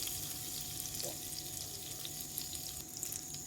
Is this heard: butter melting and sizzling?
yes